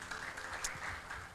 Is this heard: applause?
yes